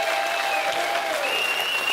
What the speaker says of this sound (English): Big round of applause for Andy there.